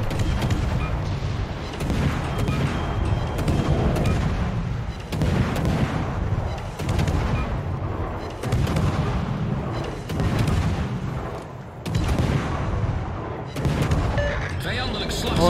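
Heavy naval guns boom from a warship in World of Warships, the German cruiser Groningen, in repeated loud blasts every second or two with rumbling tails, forming a steady barrage with no talk.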